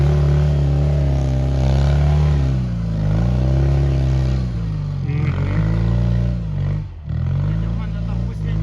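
A car climbs a hill-climb course, its engine droning loudly with shifting pitch as it works up the slope, with people talking over it throughout.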